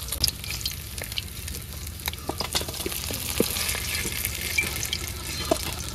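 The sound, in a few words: raw fish frying in a pan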